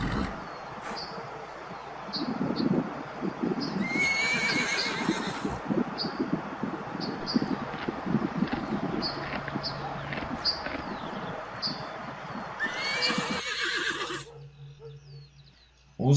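Horses neighing in two loud, shrill whinnies a few seconds apart, over a steady outdoor background with soft rustling and occasional small bird chirps.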